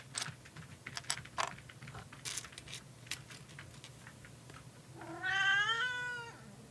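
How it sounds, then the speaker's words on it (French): Soft computer-keyboard tapping clicks away indoors, then a cat lets out one clear, drawn-out rising meow close by near the end. "Bah, c'est qu'il miaule en plus."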